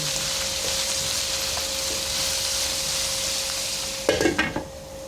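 Carrots stir-fried with chayote for pansit habhab, a steady close sizzle in the pan, ending in a few clattering scrapes of a utensil against the pan.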